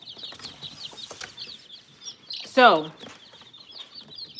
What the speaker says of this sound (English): I have quail and chickens in here.